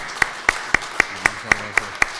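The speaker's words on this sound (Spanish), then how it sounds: "Un aplauso para él." Eight sharp, evenly spaced claps at a conference in Mexico, sounding like one or two people clapping steadily rather than a full crowd, close and moderately loud, with faint low voices underneath.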